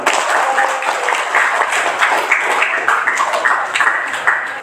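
An audience applauds during a classroom teaching session, a steady dense patter of clapping hands that continues without a break, fairly loud and close, with no talk over it.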